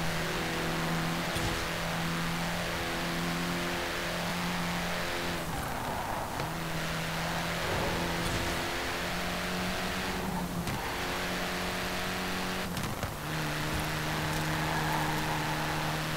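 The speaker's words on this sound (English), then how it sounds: "Now I'll let you listen to the engine for a little bit," A turbocharged 2018 Saleen S1 sports car engine drones and revs in Forza Horizon 4, holding steady tones that shift with gear changes and brief dips, loud and continuous throughout.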